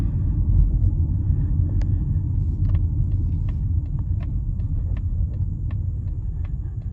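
A 2024 Mazda CX-50 Meridian SUV accelerating, heard from inside as a steady low engine and road rumble with faint intermittent ticks and clicks, continuous and fairly loud, no talking.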